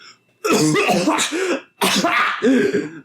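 A man coughs harshly in two loud, rasping bursts close up, each a rough fit of hacking and throat-clearing separated by a brief pause.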